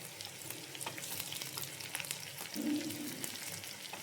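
Dried red chillies frying in hot oil while preparing a beef roast, a steady low sizzle and crackle that swells briefly louder near the end, close up with no voices.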